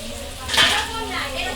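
Onions and bay leaves hit hot oil in a wok and sizzle steadily, a close, bright frying hiss that swells briefly as they go in.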